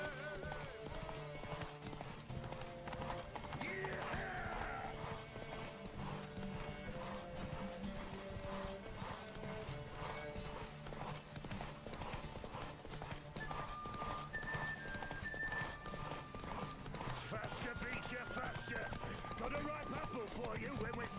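A horse gallops in The Witcher 3 video game with rhythmic, close clip-clop hoofbeats over game music, and a voice speaks briefly.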